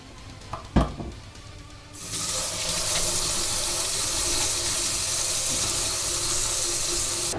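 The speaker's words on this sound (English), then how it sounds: "always give your hands a good wash" A kitchen tap gushes steadily as hands are washed beneath it, the close, full rush of water starting after a few soft knocks and clatters and continuing loud and even to the end.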